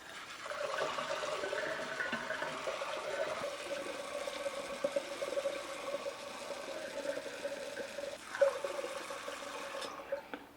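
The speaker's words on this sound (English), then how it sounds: "add some more clean water, dechlorinated water, up to the 6 gallon mark on the carboy" Dechlorinated water pours steadily into a six-gallon carboy for hard cider, a continuous faint gurgling splash with a brief louder slosh near the end.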